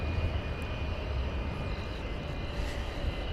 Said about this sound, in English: That's flight 3284, Airbus A320 Neo, and that was Sky the Blue Jay on the tail.